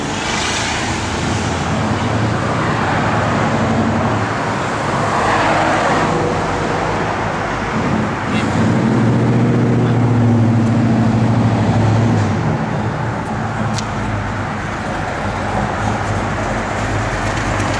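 Continuous road traffic rumble in a traffic jam, engines idling and vehicles passing, a dense steady roar throughout with no talking.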